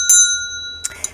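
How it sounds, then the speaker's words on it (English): A bell rings in a short burst with a bright, sustained metallic ring, followed by two quicker, lighter strikes near the end, close and clear with no talk. "it's like Spirit is ringing this bell"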